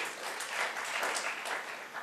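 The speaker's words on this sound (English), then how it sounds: "every time I talk about a movie, you people clap" Lecture-hall audience applauding at a career talk, a dense, steady clatter of many hands clapping together, moderately loud and sustained for about two seconds without speech.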